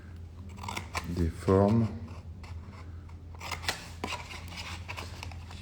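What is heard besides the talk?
scissors cutting out shapes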